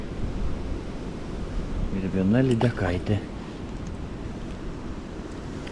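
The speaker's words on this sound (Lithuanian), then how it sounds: "vėjas didėja tikrai. Kuo tolyn, tuo smarkyn" Strong wind and waves roar steadily across a lake during perch fishing just after a hurricane, a dense rushing wash that stays close and constant while someone speaks briefly midway.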